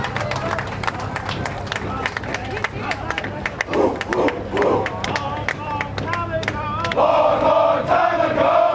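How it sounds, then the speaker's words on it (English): Spectators along a small-town canal festival parade clap and cheer, a busy outdoor wash of claps, whoops and crowd babble, with louder cheering and a sustained tone swelling near the end. "Give them a big round of applause, ladies and gentlemen."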